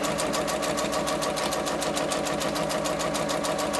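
A sewing machine stitches ric-rac trim onto a quilt with a steady, rapid needle chatter. The stitching runs continuously and evenly at moderate loudness, with no voice over it.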